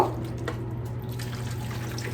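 Gravy being poured from a stove pan over steak and vegetables, a faint, close trickle of liquid over a low steady hum.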